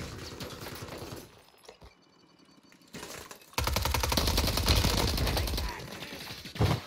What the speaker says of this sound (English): Somebody else is shooting at him.